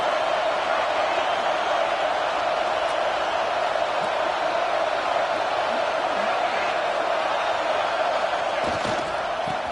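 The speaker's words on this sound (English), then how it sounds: "The Buckeye crowd alive on 3rd down." Stadium crowd roar from an Ohio State Buckeyes home game in a college football video game, a steady dense wash of cheering that holds at even loudness throughout, with a commentator talking over it.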